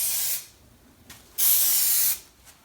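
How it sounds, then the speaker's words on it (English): An aerosol can of glue sprays in two long, loud hissing bursts with a short pause between them, close up while an old 1967 Ford pickup's cab interior headliner and rear panels are being glued, with no talking. "it does take a lot of glue when you buy the aerosol can like that"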